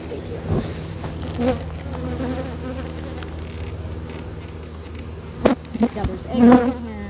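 Honeybees on a hive frame give a continuous low buzz close by, with individual bees droning louder as they pass, plus a few knocks and handling bumps.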